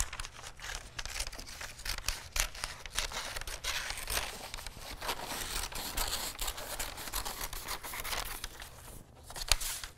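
Scissors snip away excess fabric at the armhole of a t-shirt sleeve being upcycled, giving repeated close crisp cuts and crinkly fabric rustle with no talk.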